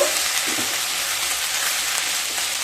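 Vegetables for a pure vegetarian chowmein sizzle and crackle in a hot pan after salt is added, a steady close frying hiss with faint scraping stirs underneath.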